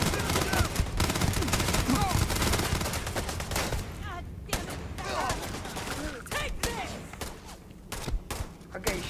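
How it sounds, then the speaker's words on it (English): Rapid bursts of gunfire in the Starfield video game strike from several directions, dense volleys with sharp cracks and pauses, loud and close, mixed with muffled game voices. "I'm getting shot at both ends."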